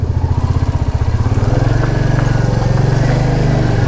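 A Meteor motorcycle rented for a mountain ride pulls away, its single-cylinder engine thumping in a rapid, loud pulsing beat close by that smooths into a steadier drone as it gets under way.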